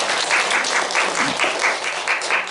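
A congregation gives a short burst of applause during an Easter service at a Korean church; the brisk, even clapping fills the room in steady rhythmic pulses.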